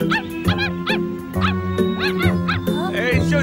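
A cartoon puppy barks and yips repeatedly in short bright bursts, loud and close, with an animated character voice talking over and around the barks.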